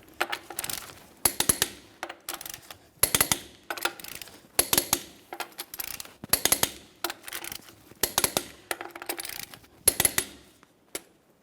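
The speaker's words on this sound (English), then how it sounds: "let's torque each one of our 21mm lug nuts to 150 foot-pounds in a crisscross manner" A torque wrench tightens 21mm lug nuts on a 2004-2008 Ford F-150 wheel in a crisscross pattern, giving about eight sharp bursts of metallic ratcheting clicks separated by short pauses, close and fairly quiet, with no talking.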